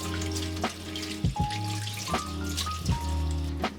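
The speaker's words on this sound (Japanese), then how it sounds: "水を当てていきながら、この葉をね、1枚ずつ剥がしていきます。" Running tap water rinsing lettuce leaves as they are peeled off one by one, a steady close splash with soft irregular patters and drips.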